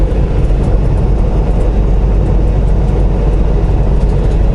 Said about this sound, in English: Philip Lee, here comes another train.